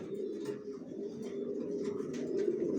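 Racing pigeons coo in a loft, soft repeated throaty calls close by, with faint rustling between them.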